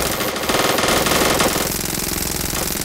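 SMG fire in the zombie shooter game Another Zombie Defence comes as a loud, continuous rapid rattle of automatic shots running without pause, close and dense, with no talking over it.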